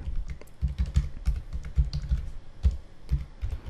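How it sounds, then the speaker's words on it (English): Notes typed on a computer keyboard: rapid, uneven clicks of keys pressed close up, a steady burst of keystrokes with short pauses and no voices. "type any notes here, whatever you want to type here."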